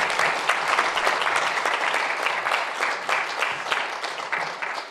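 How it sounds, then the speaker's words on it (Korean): Sustained audience applause closes a lecture on Korea–Japan relations at a Seoul National University forum, with dense steady clapping that continues evenly for the whole stretch and carries no speech. "다시 한번 큰 박수 부탁드리겠습니다."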